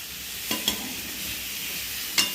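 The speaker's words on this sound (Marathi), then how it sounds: "एक वेळा फिरवून घ्यायचं छान" Okra being stirred with salt and tomato in a pan on a low gas flame, with a steady soft sizzle and a few scraping stir strokes, close and alone.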